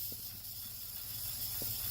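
Spray lubricant hisses in a steady, faint stream onto the wheel bolts of a Husqvarna garden tractor. The spray runs without a break under low background rumble, with no talking.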